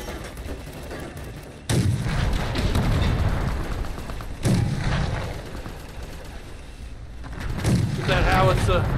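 Gunfire in the video game Fallout: The Frontier: a few heavy, booming shots strike at intervals with sharp onsets and rumbling decay, loud and near, over continuous game background noise.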